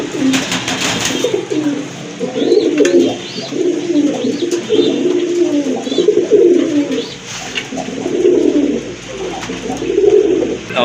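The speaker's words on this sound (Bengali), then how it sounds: "এই যে দেখেন আরেক জোড়া গড়া কবুতর" Garra pigeons coo in repeated soft, throaty phrases, close and steady, with several birds overlapping in a calm rhythm.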